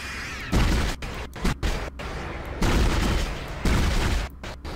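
Plasma cutter fire in the video game Dead Space comes in heavy, close bursts. Several loud blasts fall in an uneven rhythm, with short gaps between them and a rumble carrying under each shot.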